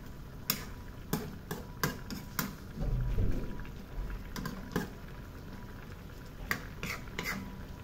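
Adobo broth with chicken liver and gizzards simmers and reduces in a pan, a faint bubbling hiss punctuated by scattered sharp pops and ticks, quiet and close, without speech.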